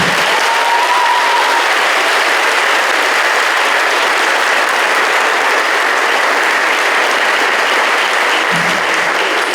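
Crowd at a 2024 athletic hall of fame induction ceremony breaks into loud, dense applause that fills the room and stays steady throughout, with a brief cheer early on.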